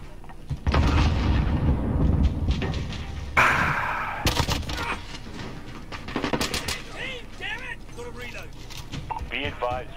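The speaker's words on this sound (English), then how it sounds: "Receiving hostile fire!" Military video game combat: heavy booming gunfire and blasts dominate early, with a sharp burst of shots midway, then radio-style voices speak over quieter fire toward the end.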